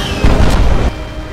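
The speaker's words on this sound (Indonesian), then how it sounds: "Waktu pun habis sehingga bomnya meledak dan membuat Underdog terlempar jauh ke atas." A loud bomb blast in a film boom sounds with a heavy low rumble that swells and holds for about a second, then cuts to a quieter tail.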